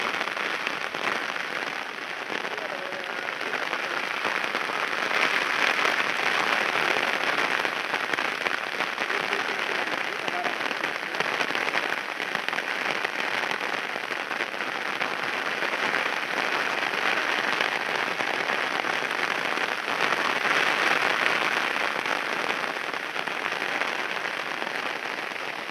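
Heavy rain pours steadily at a campsite in Tamil Nadu, a dense, unbroken hiss of drops drumming on surfaces with no talk, holding constant loudness throughout.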